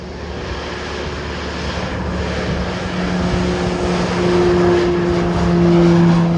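An airplane at Jomsom airport takes off with a loud, building propeller-engine roar and steady tonal drone that swells over several seconds, close and continuous.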